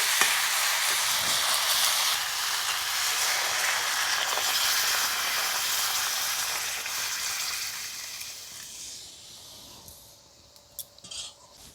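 Water is poured into a cooking pot of chicken stew, giving a steady broad rushing hiss with a sizzling edge that slowly fades and thins out near the end, with no voices.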